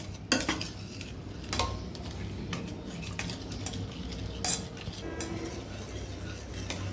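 A spoon scrapes and clinks against a pan while white sauce for pasta is stirred, with a few sharp metallic taps over a low, steady stirring swish.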